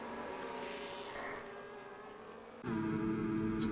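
Formula 1 car engine in a racing video game at Monaco, a steady tonal drone with strong harmonics that drops slightly, then jumps louder and higher midway as revs climb, running alone without voices.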